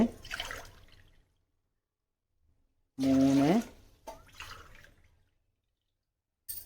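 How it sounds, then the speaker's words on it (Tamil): Water poured into a large pot for a village jowar kali, a short loud gush whose pitch rises as the vessel fills, with speech before and after it. "ஒரு பெரிய பாத்திரமாக எடுத்துக்கிட்டு ஒன்றுக்கு நாலு அளவு தண்ணி"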